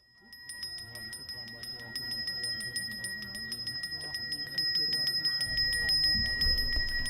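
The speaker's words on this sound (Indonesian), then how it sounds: "Suara alunan genta Jero Mangku terdengar merdu ketika memasuki Pura Agung Jagatnata Singaraja" A Balinese Hindu priest's genta hand bell rings in fast, repeated bright metallic strikes at Pura Agung Jagatnata temple in Singaraja during Saraswati prayers, with a crowd murmuring beneath it.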